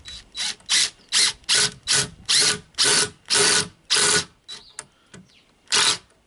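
A power driver sinks a 70mm screw into a timber apex roof truss of a large garden shed, in about a dozen loud, close bursts of ratcheting whir separated by short pauses.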